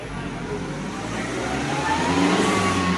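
A car engine revs hard on a dynamometer during a horsepower test with an electronic throttle controller fitted, building steadily in a loud, sustained roar with no talk over it.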